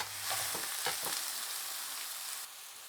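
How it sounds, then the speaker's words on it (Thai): Four sliced onions fry in hot oil in a pot for a fresh spring roll filling, a steady close sizzle with a few stirring scrapes early on, no voices. "ตั้งหม้อแล้วก็ใส่น้ำมันลงไปแล้วก็สิใส่หอมบัวใหญ่หอมบัวใหญ่นี่ใส่4หัวเด้อ"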